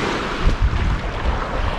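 Ocean waves washing in at Chipipe Beach in Salinas, Ecuador, a brief broad rushing surf sound with gusty wind buffeting the microphone and no voices.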